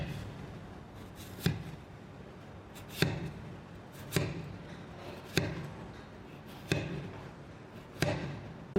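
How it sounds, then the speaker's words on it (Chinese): A kitchen knife cuts a cucumber into diagonal pieces on a board, six evenly spaced chops about one and a quarter seconds apart, close and crisp over a quiet background. "然后将黄瓜用斜刀切成小段"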